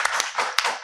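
A Hindi comedy poetry gathering's audience claps briefly, a few distinct hand claps in quick succession over a short moment.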